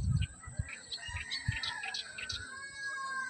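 Homing racing pigeons near a loft give soft coos and chirps in a quiet outdoor setting, with low muffled thumps or wing flutters close by and scattered bird calls throughout.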